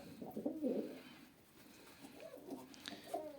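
Pigeons coo softly and repeatedly nearby, low throaty calls rising and falling against a quiet background, at a breeding loft of white and marble pigeons.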